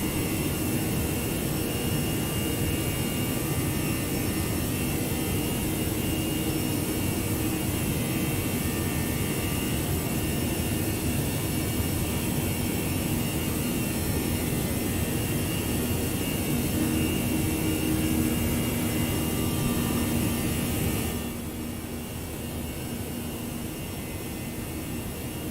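Jet airliner engines roar steadily during the climb after takeoff in the X-Plane 11 flight simulator, a loud continuous broadband rush that drops slightly in level near the end.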